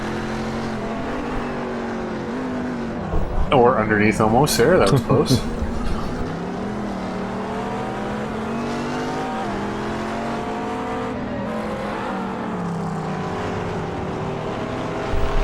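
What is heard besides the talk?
GT race cars battling at Brands Hatch in a racing video game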